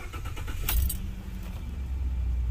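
A 3.7 liter naturally aspirated Ford F-150 engine is cranked on a start attempt, a steady low churning run with a sharp metallic clatter near the start, close and continuous with no talking.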